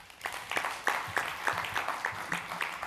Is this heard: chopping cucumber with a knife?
no